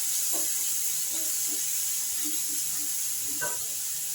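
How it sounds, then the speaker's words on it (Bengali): Chopped garlic and onion fry in a pan for a Bengali steamed egg dish, giving a steady, close hiss with a few soft pops and spatters scattered through it. "এবার এই রসুন আর পেঁয়াজটাকে একটু লাল লাল করে একটু ভেজে নিন।"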